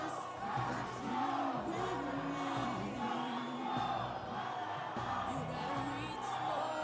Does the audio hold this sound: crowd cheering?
yes